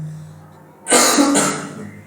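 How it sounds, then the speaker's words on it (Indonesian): A single harsh cough bursts out loud and close after a short quiet stretch, followed by a brief throat-clearing rasp, with no talking. "maaf ya masih batuk"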